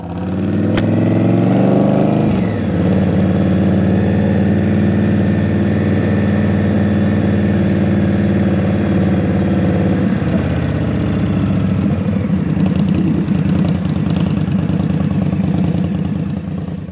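An Indian Scout Rogue motorcycle engine runs steadily and close up for the whole stretch, with a throbbing, even idle and a slight shift in tone partway through.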